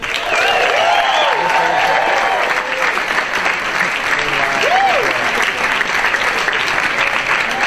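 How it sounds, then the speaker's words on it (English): Sustained, loud audience applause at a Mark Normand stand-up comedy show, steady clapping from a full crowd with scattered whoops and cheers throughout. "please give a big round of applause for Mr."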